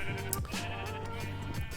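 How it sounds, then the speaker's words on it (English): Sheep bleat in Minecraft, a loud, close, wavering baa that carries through most of the moment amid faint game background sounds. "it was time to bring the sheep on up to the 2nd level"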